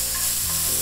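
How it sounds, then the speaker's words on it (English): Bulgogi meat sizzles in a frying pan at very high heat, a loud, close, continuous crackling hiss with no voices over it. "I'm just gonna let this literally dance on the frying pan at super high heat"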